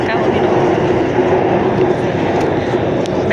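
Inside a moving Bangkok MRT metro train, a steady loud low rumble and hum of the carriage runs continuously, with faint rattles over the constant drone.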